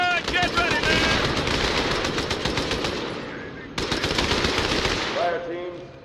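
A turret machine gun in Halo 2 fires rapid, sustained bursts, loud and dense, breaking off briefly before a second burst resumes, while voices shout in the background.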